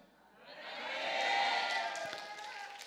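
A church congregation at a prayer retreat clapping and calling out amen together, a swelling wash of many voices and hands that rises, peaks mid-way and slowly fades, with scattered claps near the end.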